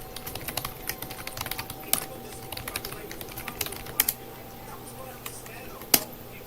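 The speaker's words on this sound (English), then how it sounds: "You're just gonna hear all my keystrokes all day" Someone types on a computer keyboard while setting up a Debian 10 installation, giving quiet, irregular close clacks with a few sharper keystrokes and a steady faint hum beneath.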